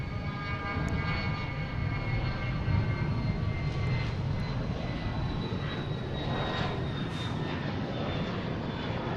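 A fixed-wing airplane in flight over Boston Logan International Airport, its engine roar steady and loud throughout, with a broad rumble and faint tonal whine, no talking.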